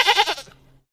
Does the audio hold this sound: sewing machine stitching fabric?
no